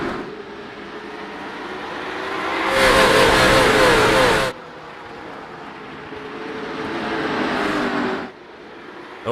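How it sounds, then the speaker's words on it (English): Late model stock cars in iRacing roar away at Hickory Motor Speedway, a loud surge of mid-pitched engines accelerating together, easing briefly, then swelling again as the pack passes, with no talk. "And these late model stocks roar off into turn number 1."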